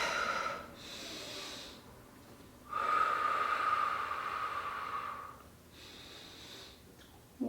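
A person breathes out during a shoulder exercise, making long hissing exhalations through the nose or mouth, close and fairly soft, with pauses between breaths.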